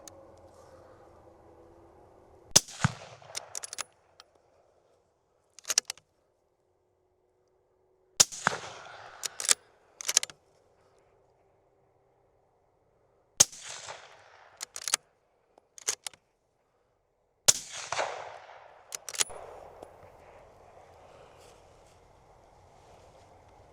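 A 6mm Creedmoor rifle fired while hunting pigs, heard as several sharp, loud reports spaced a few seconds apart with near silence between them.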